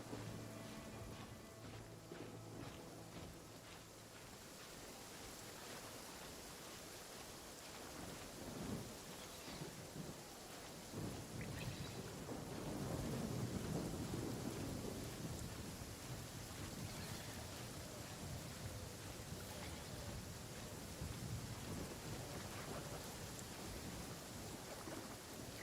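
Steady rain hisses throughout, joined by low rolling thunder that swells in the middle and fades back, the storm sounding fairly distant and soft with no voices.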